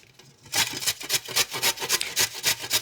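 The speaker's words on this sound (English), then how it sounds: "I'm going to first of all grate some ginger in, probably about 3 centimetres worth or a tablespoon" Fresh unpeeled ginger root rubbed back and forth across a grater, a close rhythmic rasping of roughly a dozen strokes after a brief quiet start.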